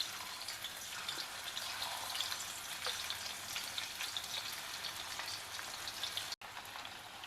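Raw banana slices frying in hot oil on medium heat, a dense, continuous crackling sizzle with fine pops, steady and close, with no voices.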